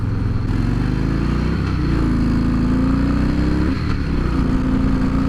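A 2017 Harley-Davidson Fat Boy S, six-speed, rumbles loud and close in a steady low engine drone that swells slightly as it revs, with no talking over it.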